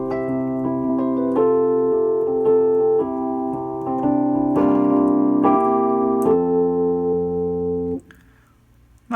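A suspended-chord progression played on a keyboard in an exploration of tonicization in popular music: sustained, clear chords changing roughly every second or so, close and loud, ending with a short fade and silence.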